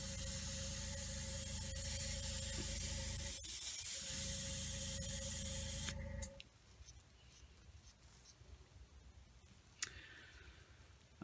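Airbrush spraying, a steady hiss with a faint tonal whine for about six seconds, briefly broken mid-way, then stopping, leaving quiet room noise and a few clicks.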